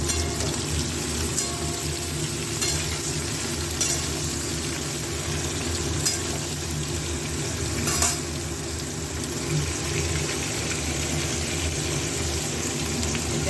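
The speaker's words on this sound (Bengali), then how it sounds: "এটাই মাছ ভাজা হচ্ছে, আমি এটাই সবজি করছি।" Fish and vegetables frying in a pan in a home kitchen, with brinjal, pointed gourd and capsicum among them: steady close crackling sizzle of oil with occasional stirring clinks, no voices.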